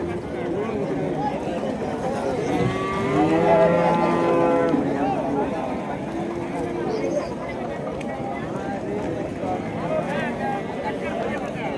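Cattle lowing at a busy weekly livestock market in Gundadam, Tamil Nadu, the first market after Pongal; a drawn-out moo rises and falls over crowd chatter and people talking nearby.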